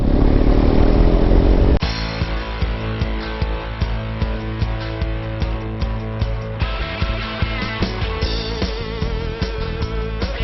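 A BMW R1250 GS HP Rallye motorcycle runs along a narrow two-way road near the Hill of Tara, its engine droning steadily and close with clattering and wind buffeting throughout.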